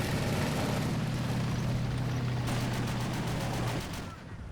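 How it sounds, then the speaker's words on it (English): Heavy .50 cal machine gun fire from half-tracks in a war video game set during the invasion of North Africa, a dense continuous roar of rapid fire with a steady low hum, loud and close, fading at the end. "Some 50 cal fire here from the half tracks, suppressing that window, but it's taking some returning fire."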